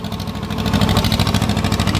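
A Swaraj tractor's engine chugs steadily nearby during a ride along a farm track, a loud low rhythmic throb with fast regular pulses and no talking.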